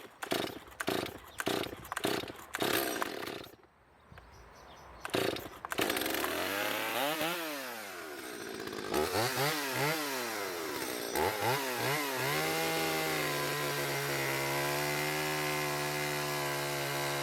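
A chainsaw roars up and down in loud revving bursts while carving a wood sculpture from a small tree, opening with rapid choppy cuts, then sweeping pitch rises and falls before settling into a steady high drone.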